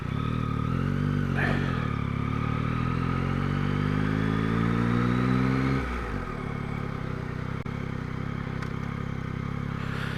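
A Yamaha MT-09 motorcycle rides past on a country road near a Leicestershire farm shop. Its engine drone climbs steadily, then drops sharply as it passes and settles into a lower running hum.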